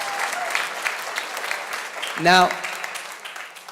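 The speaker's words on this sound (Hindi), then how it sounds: "you saw all of them who clapped" Audience in a church prayer gathering clapping and cheering, a dense continuous wash of applause running throughout, with a brief whooping voice rising near the middle and a speaker's voice over the crowd.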